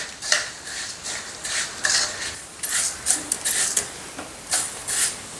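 Rice is roasted in ghee in a pan for a homemade sweet, with a spoon scraping and stirring in repeated rhythmic strokes, close and clear, without talk.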